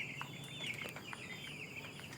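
Thirteen-day-old broiler chicks in a brooder make a steady, busy chorus of high peeping and soft clucking calls, overlapping continuously at moderate distance with no talk.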